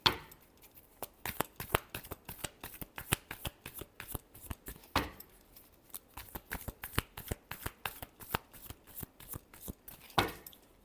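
Tarot cards being riffled and shuffled by hand, a rapid run of crisp papery snaps and flutters, close and fairly quiet, with brief pauses between bursts and no talking.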